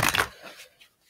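Quick papery riffling of cards up close, a short burst that tapers into a few soft taps and rustles.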